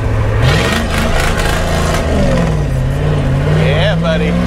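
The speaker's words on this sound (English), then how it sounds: "It does burnouts too" A 1983 Ford F-350 diesel pickup with a 4-speed transmission does a burnout, its engine revving hard and steady with rising pitch sweeps over a constant loud roar, plus a voice speaking over it.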